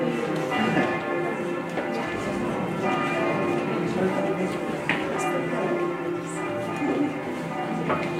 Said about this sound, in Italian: mentre suonano le campane dico due parole